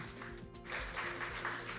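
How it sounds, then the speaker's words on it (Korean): Applause from a conference audience at a medical device research report meeting, a steady patter of clapping filling the room at moderate distance, with no voices over it. "여러분 뜨거운 박수로 환영해 주시면 고맙겠습니다"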